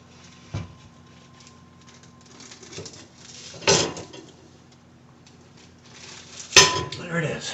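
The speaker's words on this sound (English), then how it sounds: "here comes back the Dutch oven top" A cast-iron Dutch oven lid is handled near a pizza stone during sourdough baking, giving three sharp metallic clanks spaced a few seconds apart over a quiet kitchen with faint background hum.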